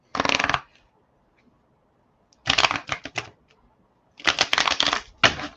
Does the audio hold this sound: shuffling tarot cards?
yes